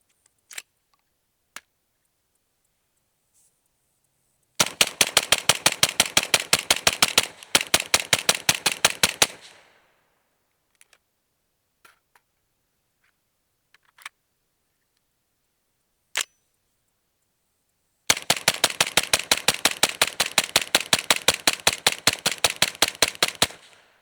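A suppressed 5.56 rifle with a 718 Inconel Lonestar Silencers suppressor fires 55 grain and 77 grain rounds: a few scattered single cracks, then a rapid burst of shots, a pause with faint clicks, and another long rapid string, all close.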